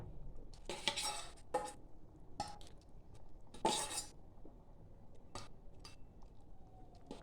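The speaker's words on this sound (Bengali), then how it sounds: "এবার দিয়ে দেবো ভেজে রাখা ঝিঙে আর পটলটা।" Fried ridge gourd and pointed gourd go into a pot of bata fish curry with potatoes. A few sharp, faint metal clinks and scrapes of a utensil against the pot are separated by quiet gaps.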